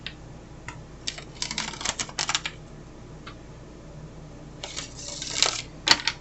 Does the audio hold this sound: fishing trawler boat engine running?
no